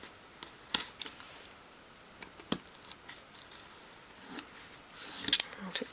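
Scissors snip through material for a 1/12 scale dolls house high back kitchen bench, a few soft, sparse clicks and cuts close by in a quiet room.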